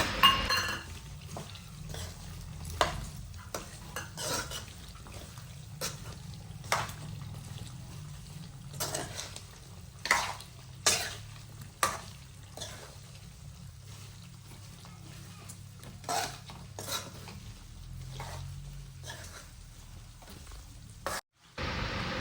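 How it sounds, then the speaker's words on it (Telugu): Chicken pieces fry in a pan with garam masala powder, giving a soft continuous sizzle broken by repeated scraping and clinking stir strokes of a utensil against the pan, close up, with no talk. "మళ్ళీ ఒక రెండు మూడు నిమిషాల పాటు మళ్ళీ డీప్గా ఫ్రై చేయండి"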